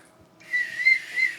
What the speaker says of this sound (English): The whistle signals a virtual hurdle